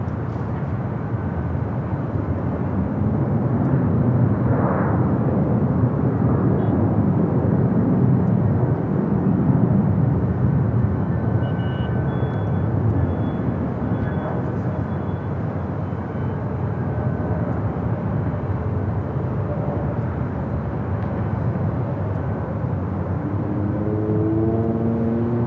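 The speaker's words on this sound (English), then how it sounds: "Delta A321 Neo touching down to for right." A Delta Airbus A321neo jet touches down at Los Angeles airport, a long steady rumble of engines and rolling roar that swells and then fades, with faint whining tones and other engine hum later.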